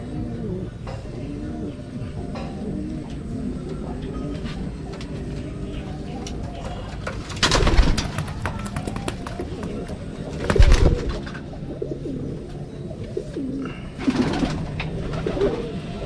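Pigeons coo steadily at close range, a low rolling murmur through the whole stretch, broken by a few louder bursts of fluttering or shuffling, with a faint train passing far off.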